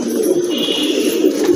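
Captured wild pigeon, breathing hard after being caught, gives low hoarse coos and huffing calls up close, a continuous throaty murmur with no talk.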